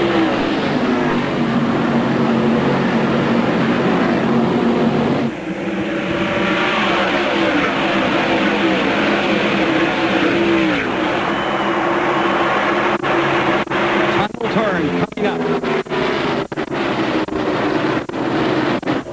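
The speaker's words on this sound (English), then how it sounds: "Field coming down to the line, and we're racing at Pocono Raceway" A pack of NASCAR stock cars roars past at the start of a race at Pocono Raceway, a dense, loud engine howl with shifting revs and passing surges, a commentator's voice faintly mixed in.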